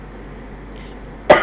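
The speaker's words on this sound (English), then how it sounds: "Excuse me, I have a bit of a cough." A single sharp cough bursts out near the end after a quiet stretch of low room noise.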